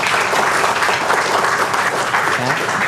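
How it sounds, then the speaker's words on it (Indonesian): An audience at a health and marketing seminar breaks into loud, continuous applause, dense clapping spread evenly through the short stretch. "Tepuk tangan buat kita semua sekalian"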